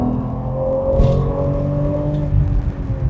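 Steady engine hum from inside a 2022 BMW M440i xDrive Gran Coupe with a 3.0 mild-hybrid engine in sport mode, with a slight rise in revs and faint exhaust crackles; no talking.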